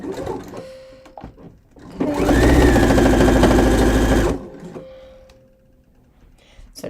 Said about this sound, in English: now I'm going to just stitch my pockets